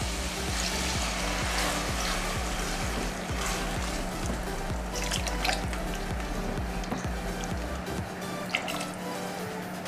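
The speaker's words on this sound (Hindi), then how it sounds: "अब इसमें पानी ऐड कर लेंगे।" Water poured from a glass into sizzling masala qeema with peas in a pressure cooker pan for Mumbai-style hara masala qeema, a steady close liquid pour and bubbling with dripping sounds lasting throughout, no talking.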